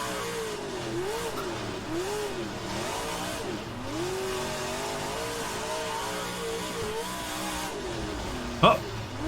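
A super stock race car in the racing simulator rFactor 2, its engine droning and revving steadily with rising and falling pitch through gear changes and cornering, plus a brief sharp squeal near the end.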